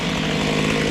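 A chainsaw runs steadily through a log while thinning trees in a wooded front yard, a loud, close, continuous buzzing engine drone with no pauses for the full second.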